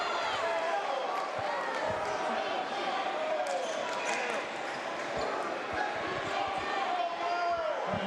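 A basketball gym crowd at an Ensworth game raises a sustained, disapproving roar after a foul call. A commentator talks over it, and the bounce of a ball and shoe squeaks can be heard.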